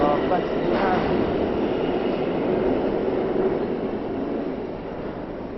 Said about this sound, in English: I just got off a R train at Lexington Avenue 59 station